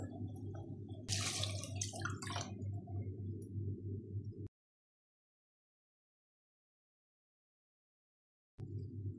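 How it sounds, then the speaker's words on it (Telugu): Water splashes and trickles into a pan of frying cabbage and chana dal curry, a steady pour with a brief louder burst, then a stretch of silence before the sizzle returns. "ఇది ఒకసారి బాగా కలుపుకొని ఇందులో కొంచెం వాటర్ వేసుకోవాలి"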